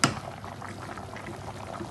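Chicken yakhni pulao simmers in a pot as its liquid cooks down, giving a steady soft bubbling and sizzling hiss close by, opening with a brief louder clack before settling into an even, continuous simmer.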